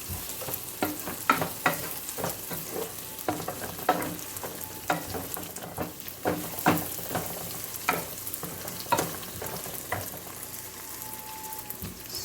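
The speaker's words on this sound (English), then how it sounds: "it's frying." Rice with spices frying in a pan, with a steady sizzle and repeated scraping strokes as it is stirred, fairly close and moderately loud with no talking.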